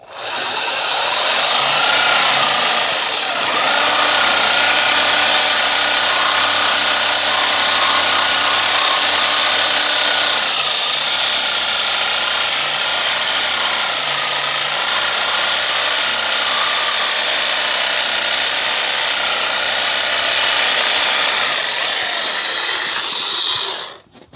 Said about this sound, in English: This is the best way I found to get these rusted on cast iron pipe pieces. You just have to have a Sawzall.